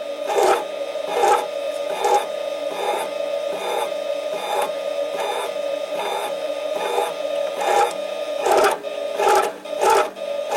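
A Harbor Freight 7x10 mini lathe takes a heavy cut on a 304 stainless steel bolt, a steady loud mechanical whine and drone with a rhythmic chattering pulse about once a second, close up with no talking.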